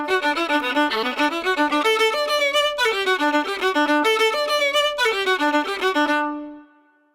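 An Irish fiddle, a type of violin, played very quickly in a rapid, continuous run of bright bowed notes, loud and close with no talking, ending in a short ringing fade.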